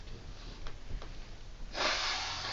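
Someone blows their nose after a ghost pepper challenge, with short sniffs and breaths at first and then one longer, forceful blow up close near the end.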